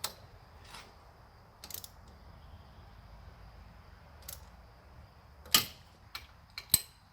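A bolt on a car engine's belt tensioner is tightened with a ratchet wrench, giving scattered sharp metallic clicks and clacks over quiet background hum, a few louder ones near the end.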